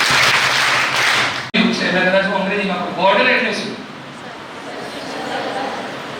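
An audience at a Kargil Vijay Divas 2025 gathering breaks into loud, sustained applause for Operation Sindoor, with a crowd voice or cheer rising briefly inside the clapping before it slowly fades.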